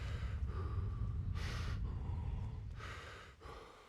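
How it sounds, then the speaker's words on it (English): A tired character breathes heavily in the video game Kingdom Come: Deliverance, two rough gasping breaths close up over a steady low background rumble. "The heavy breathing."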